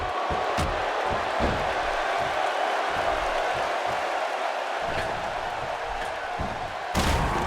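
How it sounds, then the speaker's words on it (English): A video game wrestling crowd (WWE 2K16) roars continuously in a dense, steady wash of cheering for Stone Cold Steve Austin, with occasional thuds and sharp impacts cutting through. "This crowd going crazy for Stone Cold Steve Austin"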